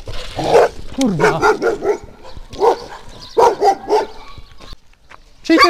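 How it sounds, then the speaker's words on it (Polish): A loose dog barks repeatedly at close range, sharp harsh barks in bursts, beside a cycling route around Biebrza National Park; a voice speaks briefly amid the barking. "Czyj to jest pies?"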